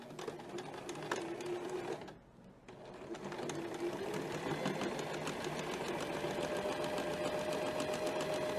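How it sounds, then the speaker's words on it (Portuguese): Sewing machine stitching along the edge of a shoe upper (sapatilha), running steadily with a brief pause midway for a reverse backstitch before continuing, close and clear with no talk. "Vou costurar, faço um retrocesso no início."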